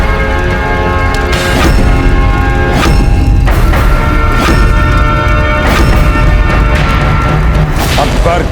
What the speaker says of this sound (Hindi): अकबर के अपने खेमे में इतना बड़ा धमाका